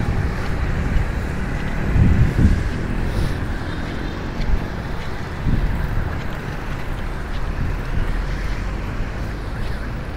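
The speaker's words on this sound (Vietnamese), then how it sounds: "Gió rất mạnh các bạn." Strong wind buffets a microphone during rain on a city boulevard where workers are planting trees, giving a steady, loud roaring rumble with stronger gusts throughout.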